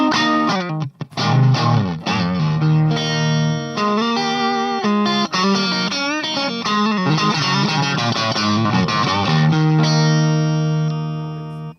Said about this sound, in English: So this is a capture of my 1970 Fender Bandmaster reverb.